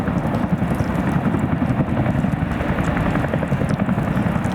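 A Chinook twin-rotor helicopter flying, a loud, continuous rumbling thump of rotor and engine noise with a fast, rough chopping texture that stays close and steady throughout.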